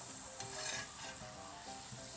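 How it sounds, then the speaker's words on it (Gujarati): Fafda, a gram-flour snack, frying in hot oil on a medium gas flame, giving a steady, close hiss and sizzle with soft bubbling throughout and no voices. "આ રીતે આમ તળી લેવાના, મીડિયમ ગેસ રાખવાનો, બહુ લાલ નહીં થવા દેવાનું।"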